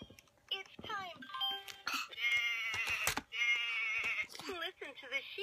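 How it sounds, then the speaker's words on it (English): Warbling, bleating calls that sound like a toy sheep singing, repeated in bursts with a child's babble and chimes mixed in nearby. "Listen to the sheep sing."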